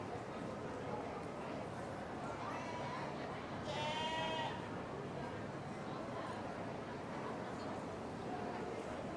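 Goats at a show bleat amid a busy barn, one clear bleat rising above a steady crowd murmur and shuffling, with people talking nearby.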